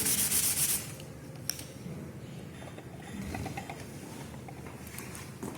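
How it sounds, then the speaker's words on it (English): A Scotch-Brite scouring pad rubbed against a flap, a close, continuous dry scratching friction, louder and harsher at first, then softer steady rubbing strokes. "I'm just rubbing the scotch brite on it"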